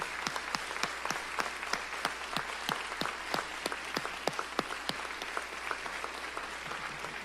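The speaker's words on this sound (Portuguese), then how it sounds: "Se puder, vamos aplaudir a Júlia agora?" A church congregation applauding: distinct, fairly sparse hand claps in a steady, uneven patter lasting several seconds, moderately close and without talk over them.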